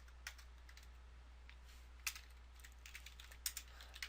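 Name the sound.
typing on a computer keyboard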